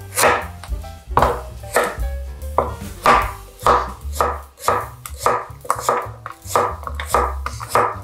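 Roughly 270 g of sweet winter radish being sliced on a cutting board, a loud, close, steady rhythm of knife thuds, about two strokes a second, with no voices.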